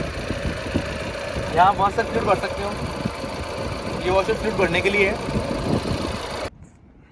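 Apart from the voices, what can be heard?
Tata Nexon 1.5 litre 4-cylinder diesel engine idling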